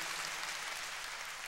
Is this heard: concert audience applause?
yes